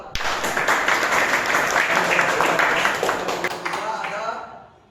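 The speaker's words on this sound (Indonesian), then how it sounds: "silakan tepuk tangan untuk Dela." Applause from participants in an online class, a dense, sustained patter of clapping lasting several seconds before tapering off at the end.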